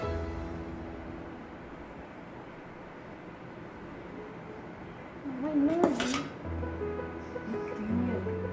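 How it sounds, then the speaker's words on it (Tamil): Dalgona coffee batter is mixed in a bowl, a soft low rubbing and scraping with a brief louder clatter of utensil against the bowl partway through, fairly quiet and close. "இப்போ நம்ம இந்த Dalgona பேட்டர் வந்து மிக்ஸ் பண்ணுவோம்"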